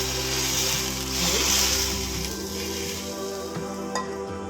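Hot oil, about a cup, is poured into a flour mix for masala nippattu, giving a bubbling sizzle that swells and then fades into quieter crackling with a few utensil clinks.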